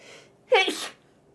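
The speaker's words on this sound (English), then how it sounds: "I'm gonna sneeze." A single close, loud sneeze bursts out after a brief quiet lead-in, a sharp intake followed by the explosive release, with no talk around it, in a mystery game setting.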